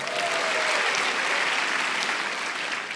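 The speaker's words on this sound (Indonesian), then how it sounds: "Tepuk tangan untuk Tarakan." Steady, full applause from a stand-up comedy audience cheering for Tarakan, a continuous dense roar of clapping with no break from start to finish.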